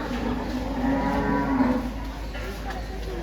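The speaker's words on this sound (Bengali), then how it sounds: "আচ্ছা, এটা এরকম কেন এই গরুটা?" A cow moos at a temple cowshed, one long, loud, drawn-out low call lasting nearly two seconds, followed by quieter shed ambience, with no talking.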